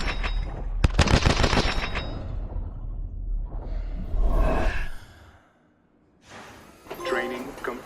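Video game shooting-range gunfire: a fast burst of rapid automatic shots, loud and close, followed by a heavier burst and then someone speaking.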